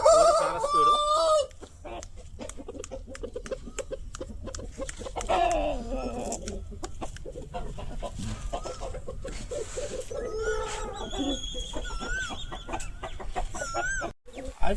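A rooster, an original Kikkarai breed bird offered for sale, crows several times and clucks nearby, its loud calls rising and falling over background chatter and farmyard noise.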